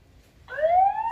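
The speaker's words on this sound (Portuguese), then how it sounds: "já toca a sirene na câmera" Siren alarm from a Sonoff CAM Slim security camera triggered through the eWeLink app: a loud electronic wail starts abruptly midway and holds a steady rising tone, close to the listener, with no talking.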